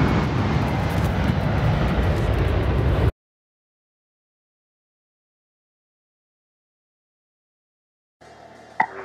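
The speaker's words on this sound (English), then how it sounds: "Here goes Cosmic Girl. And yes, we are wheels up." Cosmic Girl, the carrier aircraft, takes off with a loud, continuous broadband engine roar. The roar cuts off abruptly, and after a long gap a fainter rumble returns with a sharp click near the end.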